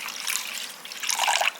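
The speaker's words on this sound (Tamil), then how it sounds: "கொஞ்சம் முங்குற அளவுக்கு தண்ணி விடுங்க." Water pouring into a bowl of semolina (rava) to soak it for Tamil pori urundai, a steady close trickle with a brief louder splash near the end.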